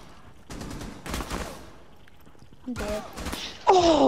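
Gunfire bursts in the Rainbow Six Siege video game, several short rattling volleys spread across a few seconds with a louder final burst, mixed with game effects.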